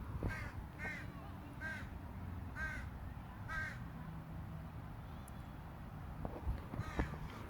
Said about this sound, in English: throw it at this fucking crow